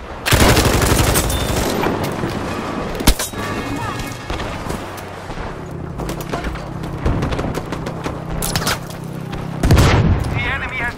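Hand grenade blasts and gunfire in a World War style shooter game, with loud booms at the start, around three seconds and near ten seconds over continuous rattling shots, and in-game voices calling out over the battle.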